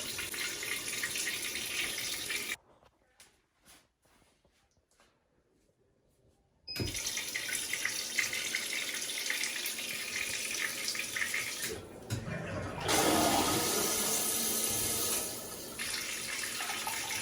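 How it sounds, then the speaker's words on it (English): A smart toilet with a bidet and power flush feature runs a loud, rushing water flush close by, starting after a brief silent pause and surging again near the end, with no voices. "And I like the power flush feature in there too as well."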